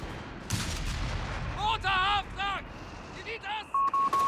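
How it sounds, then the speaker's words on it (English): Gunfire exchange in the Company of Heroes 3 World War II strategy game, a 2v2 match: scattered muffled shots and blasts under near game voice lines and chirping tones, with a steady hum through the mix. "Shots being exchanged."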